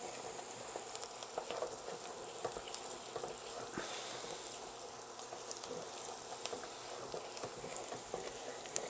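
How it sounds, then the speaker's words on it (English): Onions and dried thyme sizzle faintly in a pot for New England clam chowder, with soft crackling and occasional scraping clicks from stirring. "I'm just going to stir for about 30 seconds to a minute"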